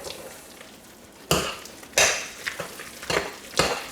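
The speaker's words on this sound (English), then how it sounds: "Just get all those eggs and spices mixed in with that bread." Leftover bread being mixed with eggs and spices in a bowl for bread pudding: a quiet start, then several loud, wet squelching stirs with utensil scrapes, close up and without talk.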